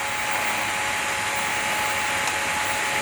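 An MRCM/Vevor drill bit sharpener grinds a drill bit with a steady, loud motor whir and a continuous abrasive hiss that holds evenly throughout, with no talking.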